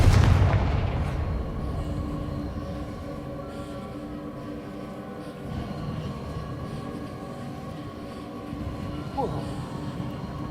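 A Confringo fire spell explodes in Hogwarts Legacy with a loud booming burst at the start that rolls off into a long, low rumbling tail, while a voice talks quietly underneath.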